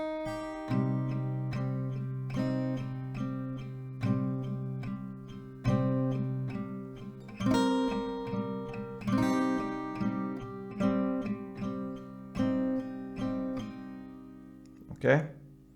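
Acoustic guitar picking the notes of a song slowly, single plucked notes and soft chords ringing out one after another at a moderate, close-up level.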